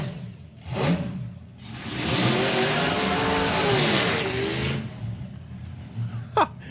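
A supercharged drag racing car roars off the line and accelerates hard down the strip, with a loud rising engine howl lasting a few seconds before fading, then brief distant crowd or track noise.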